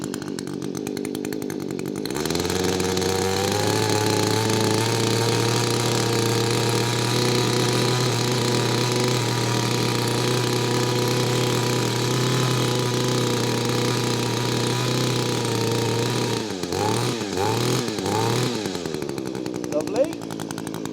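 An Echo hedge trimmer's small two-stroke engine starts after a short pause and runs at a steady, buzzing high idle close by, then revs in quick bursts as the throttle is worked before easing off near the end.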